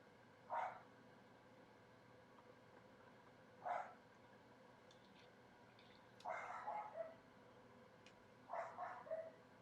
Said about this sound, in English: I'm sorry about Niles, if you guys can hear him barking.